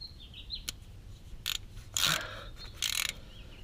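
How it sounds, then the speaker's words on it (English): Ratchet tightening the automatic transmission fill plug on a 2005 Honda Pilot, heard as a few short bursts of clicking at close range with quiet gaps between them and no talk. "we're using a ratchet here that matches up right into the hole right here"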